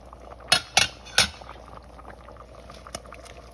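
Zucchini chicken noodle soup with spinach simmers quietly in a pot while a utensil knocks three quick clinks against the side, followed by one fainter tap over the soft bubbling.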